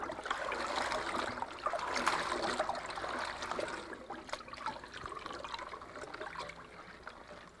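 Fresh salad greens swished by hand in a basin of water to wash them, a close, continuous sloshing and trickling that eases off toward the end, with no talking.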